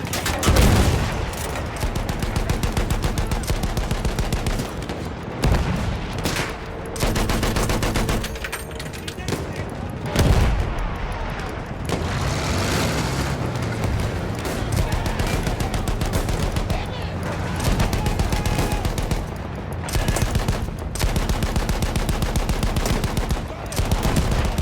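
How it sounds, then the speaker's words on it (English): Dense Battlefield 1 combat with sustained machine-gun bursts and rattling gunshots, continuous and loud for the whole stretch, with brief lulls and shouted voices mixed into the battle din. "Continue suppressing fire."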